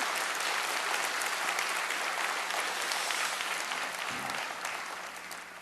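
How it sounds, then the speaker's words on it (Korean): Church congregation clapping to welcome a visiting pastor, a dense wash of applause filling the sanctuary, fairly soft and fading toward the end. "큰 박수로 환영합니다"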